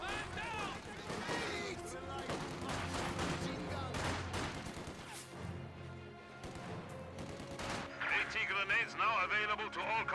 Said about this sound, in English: M242 firing away.